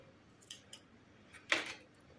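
Scissors snip a crochet yarn tail on a small amigurumi turtle, with a couple of faint, quiet clicks followed by one crisper cut in a silent room.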